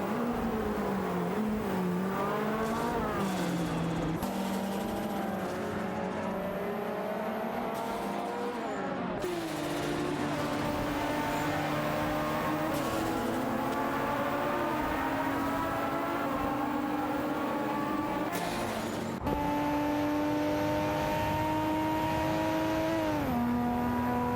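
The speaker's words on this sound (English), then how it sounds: "The race continues to heat up as the cars navigate the track." Race cars roar around a track in a simulated AI race, engines whining with rising and falling pitch through gear changes, several cars passing close in a continuous loud drone with occasional tire squeal.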